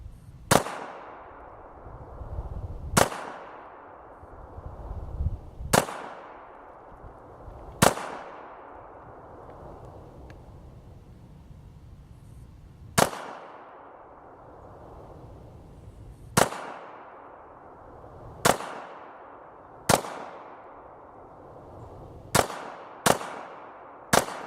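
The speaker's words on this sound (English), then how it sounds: "this is going to be my first chance to shoot it, so let's give it a shot" Single shots from a Smith & Wesson M&P 9 pistol fired at an outdoor range, eleven sharp loud reports spaced a few seconds apart, each with a brief ringing decay, the last ones coming quicker.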